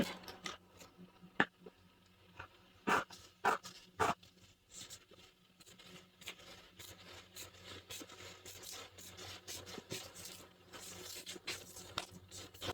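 Scissors cut a strip from a thin plastic sheet, producing quiet crinkly scraping and snipping with a few sharper clicks early on, followed by a longer continuous rustling cut, close and soft with no speech.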